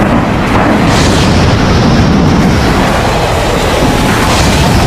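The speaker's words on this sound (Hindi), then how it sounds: "टैंक और तोपों से गोले बरसाए जाते हैं" Indian army tanks and artillery pound an area with shellfire during the Zapad military exercise in Russia, a loud, continuous roar of booms and rumble that stays dense from start to finish.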